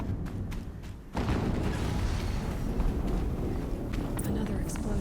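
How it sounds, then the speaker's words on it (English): A game explosion in Horizon Zero Dawn erupts suddenly after a quieter opening, leaving a loud, sustained low rumble with scattered crackling debris that holds to the end, while a voice talks over it. "Another explosion."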